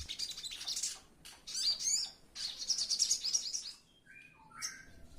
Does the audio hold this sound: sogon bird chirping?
yes